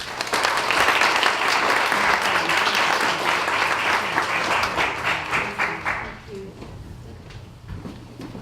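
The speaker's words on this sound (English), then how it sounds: "And so now we'd like you to join us in a round of applause as we welcome to the mic Alice Kochemba." An audience at a poetry contest applauds loudly for about six seconds, a dense wash of clapping that then thins to a few scattered claps and quiet room noise.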